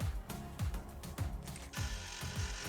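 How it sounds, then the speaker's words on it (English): A small machine cuts a chamfer on a tiny metal part for miniature vise grips, giving a repeated clicking, ratcheting chatter at a fairly quick rhythm, close but modest in level, with no talk. "that is the most aggressive chamfer I have ever seen"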